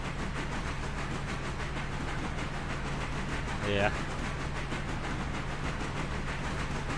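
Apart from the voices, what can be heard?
steam locomotive running in the video game Railroader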